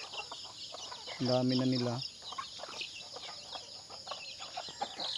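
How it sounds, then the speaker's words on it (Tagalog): About thirty chicks among laying hens and ducks on a small farm, a busy chorus of high peeping and chirping with one louder clucking burst from an adult bird, close, while a person speaks briefly. "Ganito na sila karaming sisiw mga boss, nasa 30 piraso yan"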